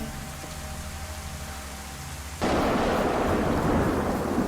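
Steady rain hisses in the DayZ video game, then a heavy rumble of thunder breaks in halfway through and keeps rolling loud and dense over the downpour.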